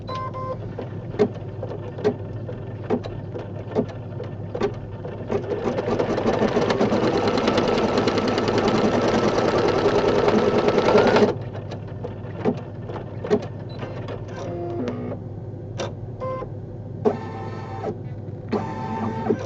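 An embroidery machine stitches design number 24 for a Valentine hug rug with a steady mechanical chatter and regular clicks, swelling into a louder continuous run midway before dropping back to intermittent stitching.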